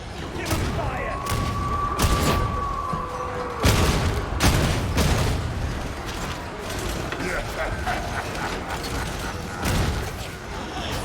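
Gunfire in the video game Warhammer 40,000 Darktide comes as repeated sharp shots and booms, with mechanical clanks between them, over game voices and background noise.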